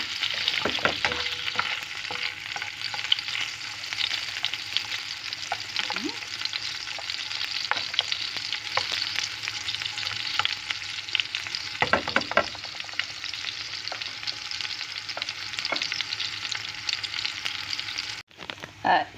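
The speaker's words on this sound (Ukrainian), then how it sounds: "І чесночок хай посмажиться" Steady close sizzling of garlic frying in butter and sunflower oil in a pan, with occasional stirring scrapes and a clatter near the end.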